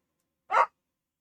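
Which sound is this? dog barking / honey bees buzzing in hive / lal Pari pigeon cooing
dog barking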